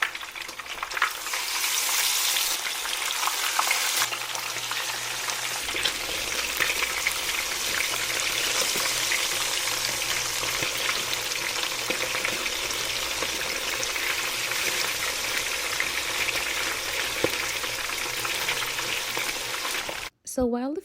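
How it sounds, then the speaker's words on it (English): Fish fries in oil on medium heat for Jamaican brown stew fish, a steady loud close sizzle that runs without a break for about twenty seconds. "So while the fish is being fried on medium heat"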